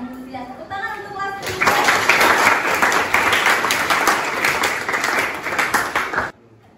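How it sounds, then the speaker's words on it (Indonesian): A school class of students bursts into loud, sustained applause after a brief voice, the clapping dense and close for several seconds before cutting off abruptly. "Tepuk tangan untuk kelas."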